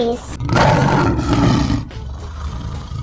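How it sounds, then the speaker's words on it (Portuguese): A lion lets out one loud, rough roar lasting over a second, close by, fading into a lower rumbling growl. "Leão."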